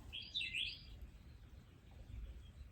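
Birds chirp briefly outdoors near the start, a short cluster of high, bright calls. They fade into low background rumble and ambient noise for the rest of the moment.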